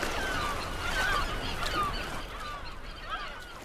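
Gulls calling over a sea lion carcass on the coast, several overlapping honking, squealing cries at moderate distance, continuous throughout.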